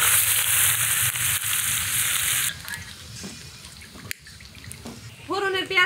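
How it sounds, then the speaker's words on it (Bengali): Whole cumin and chopped onion hit hot oil, giving a loud, close, steady sizzle that fades into softer frying. Brief clatter follows, and a voice speaks over the last moments. "আজকে রান্নাতে শুধুমাত্র জিরে ফোড়ন দেবো আর অল্প পেঁয়াজ কুচি দেব।"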